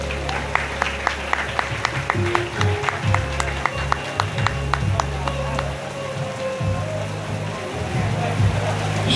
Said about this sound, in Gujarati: આપણે તાળીઓના ગડગડાટથી વધાવી લઈએ.